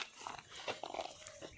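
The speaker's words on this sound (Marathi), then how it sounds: "आणि हा निकीचा पिल्लू आहे," A puppy makes small yelps and chewing noises in a garden at a family gathering, short and fairly faint bursts against background chatter and ambience.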